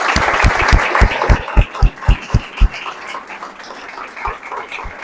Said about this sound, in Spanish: que le demos un gran aplauso por esa conferencia tan buena